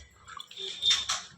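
Small cut native eggplants are washed by hand in salted water, giving a short, close burst of sloshing and splashing that lasts about a second.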